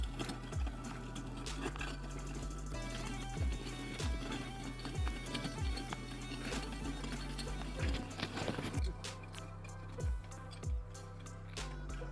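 Horse hooves clip-clop in a steady, repeating rhythm, close and fairly loud, over a continuous droning background.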